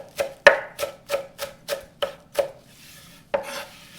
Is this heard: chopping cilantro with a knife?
yes